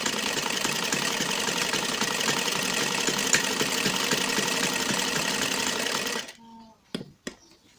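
A sewing machine stitching a salwar runs in a loud, steady mechanical whir for about six seconds, then stops, leaving a few faint clicks and handling sounds.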